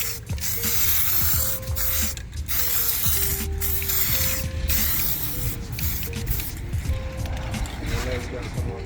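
A spray paint can hisses continuously while coating Audi Allroad bumper trim, a steady close spray with faint clicks and rattles underneath.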